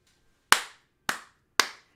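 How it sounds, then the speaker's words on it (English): Three sharp hand claps ring out, spaced about half a second apart, each crisp and isolated against silence. "Gotta wait and freaking clap on this one."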